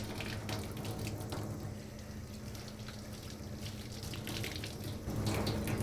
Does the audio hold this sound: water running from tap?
yes